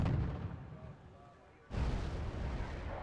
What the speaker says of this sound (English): they definitely got a shot off